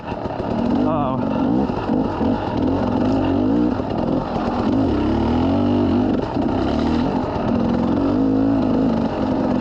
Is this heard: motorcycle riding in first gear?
yes